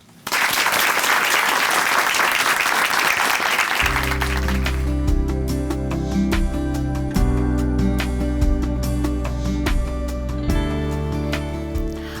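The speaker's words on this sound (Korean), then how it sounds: "춘천한마음교회 김영희 자매님 박수로 모십니다" A church audience applauds loudly to welcome a speaker, dense steady clapping that continues as sustained tonal music enters partway through and carries on beneath it.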